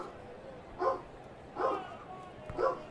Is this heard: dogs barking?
yes